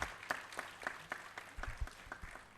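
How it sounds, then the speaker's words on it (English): Audience applauding a panelist at a medical career event, a faint, sparse round of clapping with individual claps standing out, heard from a distance. "A big round of applause for our first lady panelist tonight."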